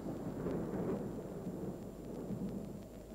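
Steady rain with low thunder rumbling underneath, a dense continuous wash of sound that holds fairly even and eases slightly toward the end, with no voices.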